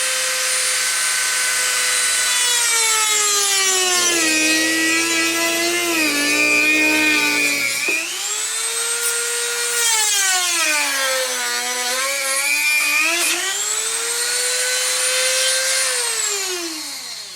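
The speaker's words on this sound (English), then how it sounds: "we're going to go ahead and use our cutoff tool. We're going to cut the cage in half." A cutoff tool slices through a steel roll cage tube from an RC Baja 5B, a loud, close, continuous high whine whose pitch sags and recovers as the blade bites and eases, running unbroken for the whole stretch.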